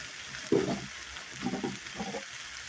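Chicken tenders with barbecue flavor stir-frying in oil in a pot, giving a low crackling sizzle with a few bursts of stirring and scraping that swell and fade.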